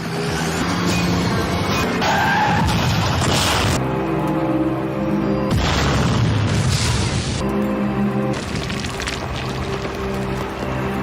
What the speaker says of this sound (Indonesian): sebuah truk menghantam dari belakang. Mobil pun kemudian meledak dalam kobaran api.